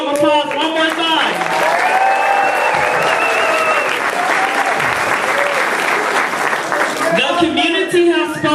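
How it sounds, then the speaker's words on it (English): Sustained audience applause at a city community event, loud dense clapping from a large crowd with voices and cheers layered over it, holding steady throughout. "let's give them a round of applause one more time"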